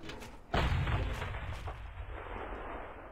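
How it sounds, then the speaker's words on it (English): A loud, close explosion booms in the Nehrim fantasy game, a sudden heavy blast followed by a rumbling, crackling tail that slowly fades. "those are loud, loud explosions"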